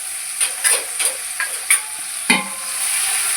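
Onions sautéing in a pan for chicken biryani: a steady faint sizzle with several soft scraping stir strokes, close and unaccompanied by voices.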